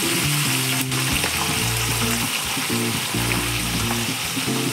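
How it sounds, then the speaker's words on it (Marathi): Green chillies sautéing in a hot pan give a steady, close sizzle and crackle that runs unbroken for the whole stretch, with no talking. "अशा प्रकारे आपल्याला परतून घ्यायची आहे मिरची वगैरे"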